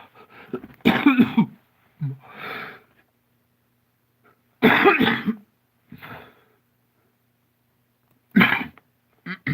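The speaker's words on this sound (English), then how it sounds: "I'm sorry, I'm coughing at the microphone." A person coughs hard three times at spaced intervals, each harsh burst close to the microphone and followed by a smaller rasping throat sound.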